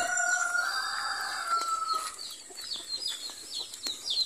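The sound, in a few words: newly hatched chicks and chickens on a farm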